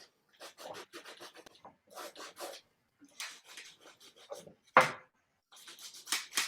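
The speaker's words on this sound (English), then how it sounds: "And you're going to put it on lightly. Don't have a lot of heavy paint, okay? And you'll see why in a moment. We're just scrubbing it on." A brush scrubs light paint onto canvas in short, dry rasping strokes, coming in quick bursts separated by brief pauses, close and fairly quiet, with no speech.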